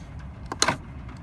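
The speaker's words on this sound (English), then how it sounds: "Electric window buttons and door locks." Electric window switches and door locks in a Mercedes Actros 2532 rigid truck cab give a couple of quick clicks, then a short sharp actuator clunk with a brief whir, close and isolated with no talking.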